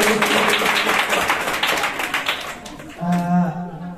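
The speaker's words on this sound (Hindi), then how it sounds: "जोरदार तालियां हो जाएगी।" Studio audience on the quiz show Kaun Banega Champion breaks into loud, dense clapping that runs for about three seconds, then gives way to a bright musical sting.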